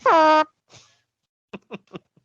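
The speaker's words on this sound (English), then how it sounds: "someone in the crowd blows a damn air horn" One long, loud blare of an air horn blown in an arena crowd at a wrestling event, then a faint brief tone and a few short clipped bursts trailing off.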